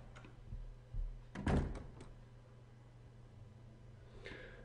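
Opening a door in a video game gives a few muffled knocks and then one heavier thud and a rattle, moderately loud over a low steady hum, with a faint tone near the end.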